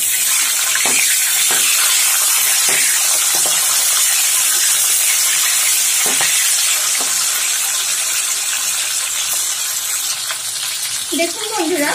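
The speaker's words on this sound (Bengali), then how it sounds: "আপনারা দেখতে পাচ্ছেন তেলটা কিভাবে ফুটিয়ে আসছে" Pointed gourds fry in bubbling hot oil, a loud continuous sizzle with scattered pops and crackles throughout, briefly easing near the end.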